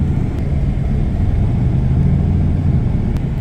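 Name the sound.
car engine started with push button, sounding like a muscle car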